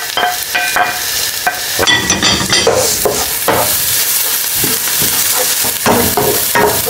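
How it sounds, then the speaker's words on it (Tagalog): Garlic and onions sauté in a pan, loud and close, with a dense sizzle and busy, irregular stirring scrapes and clacks of a utensil throughout. "lagyan lang tayo ng ating bawang at sibuyas. So, normal na pagigisa ng ating gagawin dito"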